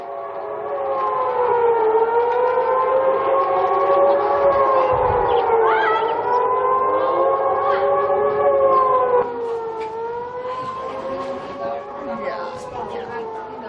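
A loud air raid siren wails steadily, its pitch slowly rising and falling, with a faint voice briefly audible beneath.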